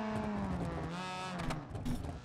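A car engine revs hard with turbo boost in the BeamNG.drive driving game, a steady, dense roar with rising and falling pitch and brief surges, close and loud throughout.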